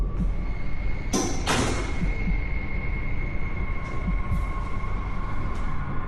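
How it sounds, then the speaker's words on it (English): An outside roof exit door at the top of a stairwell clanks and slams, with two sharp metallic bangs early on over a steady background hum. "Then as he looks up to find an outside door open, it clanks loudly."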